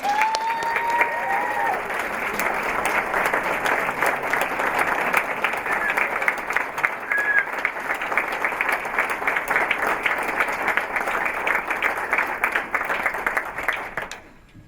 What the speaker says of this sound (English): just a huge celebratory round of applause